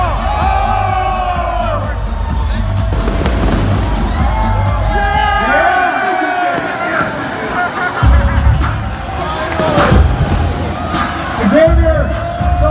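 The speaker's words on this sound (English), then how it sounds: "need you guys to cheer louder to encourage Xavier to eat it" A fan meet crowd in Manila cheers, whoops and shouts loudly and continuously, a dense roar of many voices with individual yells rising above it and a few sharp bangs.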